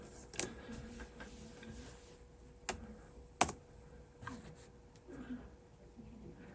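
A computer keyboard is typed on sparsely while searching, a handful of sharp, isolated clicks spaced out over a quiet background.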